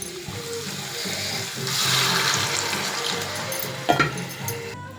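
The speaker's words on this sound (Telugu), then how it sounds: "ఇప్పుడు కొంచెం వాటర్ వేసుకుందాం" Water is poured into a hot pan of cooking onions, giving a rising rush and hiss that swells for a couple of seconds, then settles into a softer bubbling sizzle with a sharp clatter near the end.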